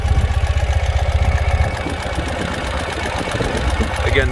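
Ural Retro motorcycle engine idling close up, a loud rhythmic low thumping pulse that evens out into a steady mechanical chug, with no speech over it.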